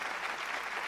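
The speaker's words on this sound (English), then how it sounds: "A big round of applause once again." Sustained applause from an audience at a mathematics foundation's annual awards function, a steady even clatter of many hands filling the whole short moment with no voices on top.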